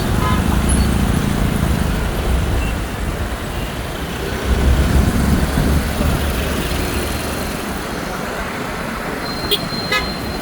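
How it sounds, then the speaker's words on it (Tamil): Heavy night traffic on a busy Chennai road makes a constant roar of engines, with car and bike horns tooting now and then and a sharp horn near the end; a voice talks over the din. "இப்போ பார்த்திங்கன்னா நல்லா டிராஃபிக் ஆயிடுச்சு."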